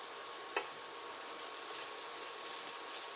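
Onions sizzling in a frying pan alongside Swiss chard, a soft steady hiss throughout with one brief clack of a utensil early on.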